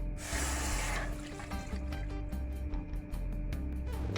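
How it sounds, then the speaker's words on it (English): A cup of coconut milk poured into a cooking pot for saltfish rundown with ackee, a steady liquid splash for about a second, then softer clinks and small movements in a quiet kitchen. "to this pot I'm gonna add a cup of coconut milk"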